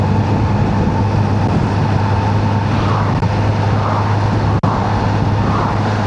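A 2026 Kawasaki Z900RS four-cylinder motorcycle pulling in sixth gear, a loud, steady engine drone blended with heavy wind rush while riding, continuous and close with no talking.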